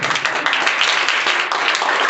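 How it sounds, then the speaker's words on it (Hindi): A classroom of students claps together after a math lesson answer, a dense, loud burst of many hands that holds steady for about two seconds. "चलो ताली बजा दो।"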